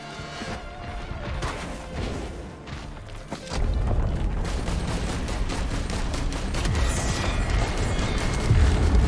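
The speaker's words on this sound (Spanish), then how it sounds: "Los petardos, fuera." Firecrackers go off in the video game Risk of Rain 2: after a few seconds of lighter game noise, a loud, dense, continuous crackle of rapid explosions takes over and runs to the end.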